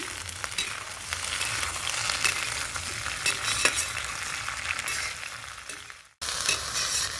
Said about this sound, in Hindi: तो ये देखिए हमने भिंडी को थोड़ी देर जो है भून लिए हैं